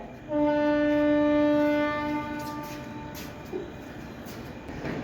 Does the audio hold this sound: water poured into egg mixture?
no